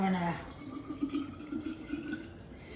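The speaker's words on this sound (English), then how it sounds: "what I'm gonna do is add a little bit of water." Water poured into a pot of tomato for steak pizzaiola, a soft steady trickling and splashing, with a voice speaking briefly at the start.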